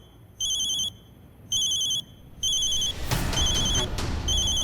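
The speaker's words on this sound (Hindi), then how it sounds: "मेरी माँ का फोन है।" A mobile phone rings with an incoming call from the caller's mother, a bright electronic ringtone in three repeated chirping bursts, then a fourth burst over a rising wash of background noise and a couple of sharp clicks.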